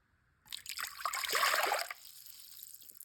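Water and rice mixture poured into a cooking pot, starting abruptly after a quiet moment as a close liquid splashing and trickling that swells, then tapers into a softer lingering pour.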